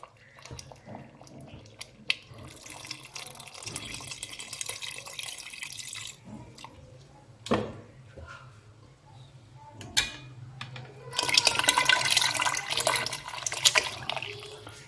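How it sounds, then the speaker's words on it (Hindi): Milk pours into a pot of cooked, softened rice for kheer, heard as two hissing, splashing bursts of liquid with quieter kitchen handling and faint drips between them. "तो अभी हम इसमें दूध डालेंगे।"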